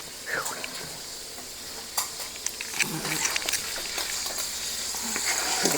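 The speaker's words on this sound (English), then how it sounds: "Get that in there and saute it a little bit." Chopped onion frying and being stirred in a pan, a steady soft sizzle with scattered scraping and clatter from a utensil, fairly close, without talk.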